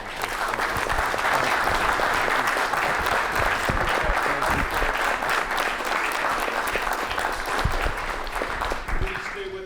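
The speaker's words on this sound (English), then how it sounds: "So I'd like to say a round of applause for these gentlemen" A roomful of people applauds at a formal evening event, steady dense clapping held for several seconds, with voices audible underneath and a few louder claps near the end.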